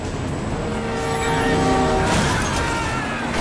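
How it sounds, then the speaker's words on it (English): Train passing in GTA 5 game, a loud rumbling roar with metallic screeching tones swelling as it rushes close by, with a brief sharp crash-like burst midway. "Beat the train, man."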